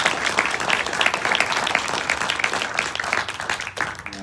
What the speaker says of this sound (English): Let's give Boyd a round of applause.